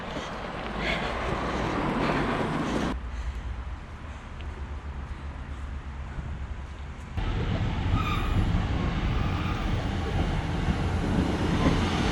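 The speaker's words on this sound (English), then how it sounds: "For a minute then, I wasn't sure I was gonna make that train" A train rumbles steadily through a railway station, a loud continuous roar with rising wheel noise, heard close by with no talk.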